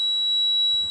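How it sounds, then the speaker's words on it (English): A home alarm system's glass-break sensor, set off by a slammed cabinet door, emits a steady, piercing high-pitched electronic tone that holds unbroken for about a second. "alarm system, and it's a glass break, and I think my son just slammed a cabinet door. Triggered it."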